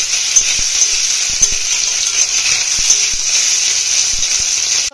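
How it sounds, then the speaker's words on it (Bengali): Soya chunks browning in oil in a wok give a loud, even sizzle and hiss that runs continuously, dotted with small ticks and pops, before stopping abruptly at the very end. "একটু লাল করে ভেজে নেবেন।"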